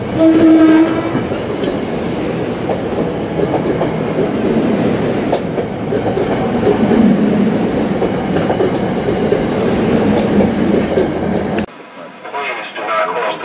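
A SEPTA push-pull train passes a crossing at Lansdale, a loud near rumble with clattering wheels, a horn blast at the start and squealing, as a recorded crossing warning voice repeats, before the noise cuts off abruptly.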